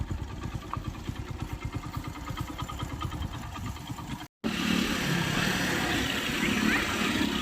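A serviced Hero Splendor motorcycle with no engine problems idles close by with a steady, rhythmic putter, then after a brief cut runs louder and rougher as a continuous drone.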